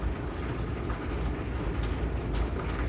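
Rain pours steadily and loudly on the roof and glass of a sunroom, a dense unbroken hiss with scattered drop impacts.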